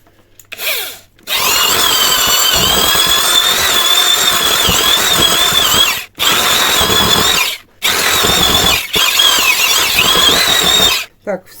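A kitchen appliance churns homemade butter with a loud, steady high-pitched motor whine that runs in long bursts, stopping briefly twice before starting again. A voice speaks briefly at the very start.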